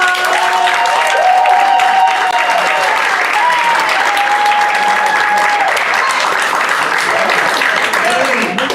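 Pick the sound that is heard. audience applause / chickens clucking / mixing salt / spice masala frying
audience applause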